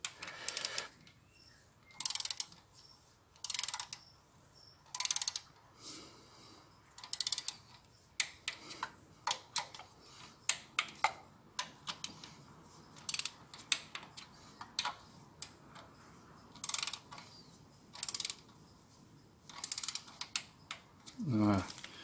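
A ratchet wrench tightening injector bolts on a Peugeot 308 engine, giving quick bursts of clicking with pauses between turns and faint mechanical handling between them.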